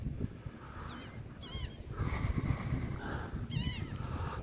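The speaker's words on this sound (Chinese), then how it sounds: "听着海鸥的叫声" Seagulls cry on a beach in New York City: a few high, wavering calls come in separate bursts over steady wind and surf-like background noise.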